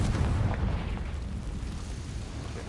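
A Confringo spell blast in Hogwarts Legacy, a loud, rumbling explosion that hits hard at the start, then rolls and fades slowly over a couple of seconds with no talking.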